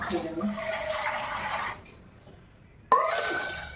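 Water is poured into a cooking pot in a steady rushing splash that stops, leaves a short quiet gap, then starts again just as strongly, heard close by.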